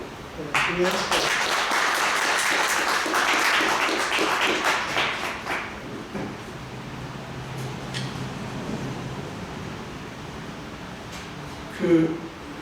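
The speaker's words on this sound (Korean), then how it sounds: "우리 그 돌아서 서 계시는 우리 성도들이 박수하도록 하겠습니다" Church congregation members applaud during an Easter service baptism certificate presentation, a moderate patter of clapping for several seconds that fades out, followed by room hum and a low voice.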